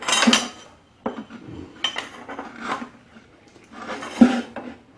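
Metal tools clinking and rattling as a 5/16 socket is fetched during lawn mower carburetor work, several bursts of jangling separated by short quiet gaps, close and fairly faint.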